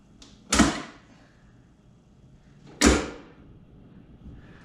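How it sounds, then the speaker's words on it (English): Two sharp plastic clicks about two seconds apart, each a crisp snap of a 2019 Mustang GT emblem clip seating into place, close and distinct against a quiet background. "Make sure you hear the click and it snaps"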